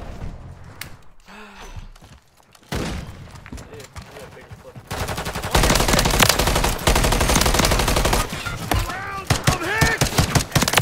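Automatic rifle fire from an MCW assault rifle in Call of Duty Modern Warfare III, with sustained loud bursts rattling continuously through the second half, joined by explosions and brief voiced gasps.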